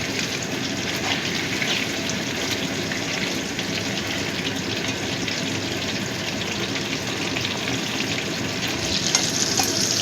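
Chicken pieces for chili chicken frying in a pan after being turned over, a loud, steady close-up sizzle of hot oil that holds without a break.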